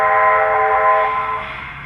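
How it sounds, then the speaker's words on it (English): A ZIMO DCC sound chip in a model Garratt locomotive gives one sustained steam-style whistle, a clear steady tone that fades slightly near the end, heard alone. "So here's the whistle."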